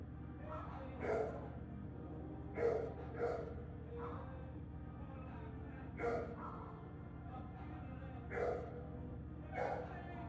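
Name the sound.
dog barking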